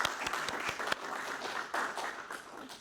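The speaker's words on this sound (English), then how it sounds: "Let's give a round of applause for our graduates." An audience applauds the graduates at a service dog graduation, with a smaller crowd clapping at moderate volume and a few distinct claps standing out before the applause tapers off.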